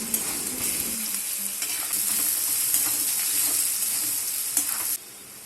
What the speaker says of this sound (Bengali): এরপর আমি আদা বাটাটা দিয়ে আর একটু নেড়ে নিচ্ছি।